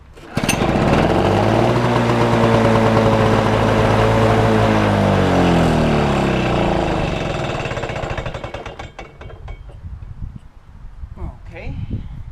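Gasoline lawn mower engine firing up and running loud and close for several seconds with a rough, throbbing drone, then revving down and sputtering toward a stop.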